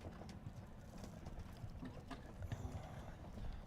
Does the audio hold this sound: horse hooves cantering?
yes